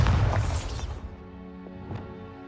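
A Bombarda spell blasts in the Hogwarts Legacy video game, a heavy, crashing boom right at the start that fades into a low, fizzing tail with a couple of small later knocks.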